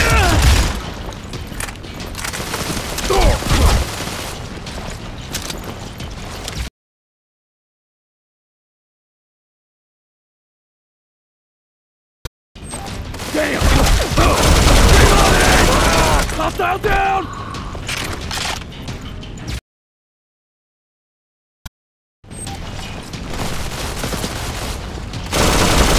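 Bursts of rapid gunfire and mechanical clatter from the Android shooter Modern Combat 4: Zero Hour, loud and dense, broken by stretches of complete silence, with voices shouting amid the shooting.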